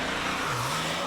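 A 2018 Porsche 911 Carrera 4 GTS with a manual gearbox pulls away hard from a launch, its engine note rising steadily in pitch as it accelerates, loud and continuous with no speech.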